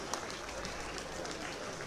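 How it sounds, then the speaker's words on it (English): A crowd applauds at the coronation ceremony of the Oba of Benin, heard as a steady, dense wash of clapping from a distance, fairly faint, with no separate claps standing out. "Please, a round of applause."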